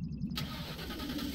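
A car engine in the S.T.A.L.K.E.R. video game cranks and catches at once, then settles into a steady, close, mid-pitched idle rumble after a brief high whine at the start.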